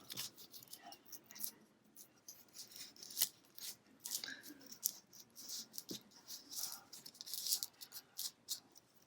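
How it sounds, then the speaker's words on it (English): Vinyl carrier sheet peeled away from masking transfer tape, a faint close crackling and rustling with intermittent sharp ticks and scrapes, no talk. "I'm just going to peel away the carrier sheet"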